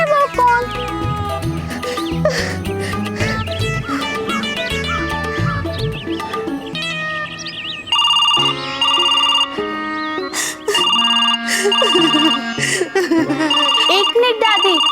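A telephone rings with a repeating melodic electronic ringtone that keeps going through a comedy horror scene, loud and close, with background music and overlapping chatter in the first half.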